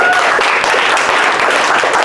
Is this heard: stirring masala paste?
no